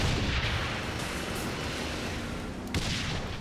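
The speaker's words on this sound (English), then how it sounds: "You can't hide from my missiles." Missile explosions in the video game Saints Row IV, a dense rumbling barrage of booms and blasts layered into a continuous roar, with a sharper impact near the end.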